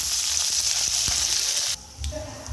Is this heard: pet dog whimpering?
no